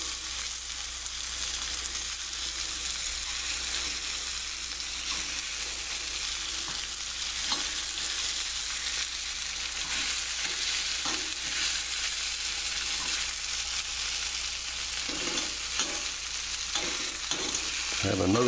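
Sea scallops searing in a pan as they are turned over: a loud, continuous, close-up sizzle with occasional soft scrapes and knocks of the utensil.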